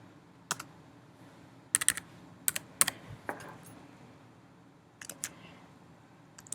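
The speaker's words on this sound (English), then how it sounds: "Let me make sure I've typed that in correctly" Numbers typed on a computer keyboard in short bursts of sharp key clicks with pauses between, fairly close and clear against a quiet room.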